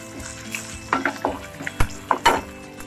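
Green chillies, dried red chillies, mustard seeds and cumin hit hot oil in a pan, giving a soft sizzle broken by a few sharp crackles and pops, with nobody talking.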